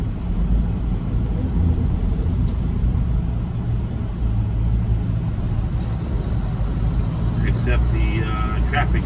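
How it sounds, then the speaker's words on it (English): Dense road traffic on the I-5 in Portland makes a constant low rumble of passing cars and buses throughout, with faint higher noises near the end. "Except the traffic around the I-5."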